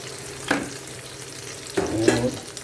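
Omelette poured into a frying pan gives two short scraping, sizzling bursts against a low steady hiss of frying, close and fairly quiet, with no talking.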